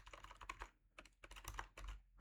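Commands being typed on a computer keyboard during a network attack test, quick irregular clusters of close, crisp key clicks with short pauses between bursts.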